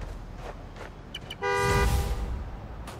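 A car horn sounds once from a key fob in the Spider-Man: Miles Morales video game, a short close toot lasting about half a second amid ambient city noise, preceded by faint electronic chirps.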